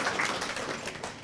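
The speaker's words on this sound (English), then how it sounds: "We'll just clap for them." An audience at a student-of-the-month ceremony applauds sponsors, giving a dense, steady patter of many hands clapping together, moderately loud and continuous throughout.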